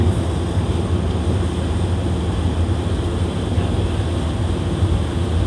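Sea waves on the beach at Pattaya, Thailand, a steady broadband roar of surf with wind rumble, continuous and fairly loud, with no talking.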